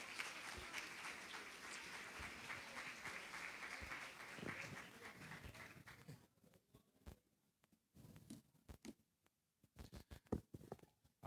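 A church congregation applauds during an evening Sunday service in a Portuguese-speaking church, steady dense clapping for about six seconds that then thins into scattered claps and quiet patches.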